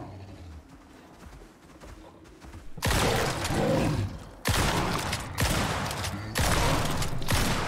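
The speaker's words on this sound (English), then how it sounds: "let's try the shotgun" Shotgun blasts in the survival video game Icarus: three loud, broadband bursts roughly a second and a half apart, each ringing on briefly, following a quieter stretch of ambient game sound.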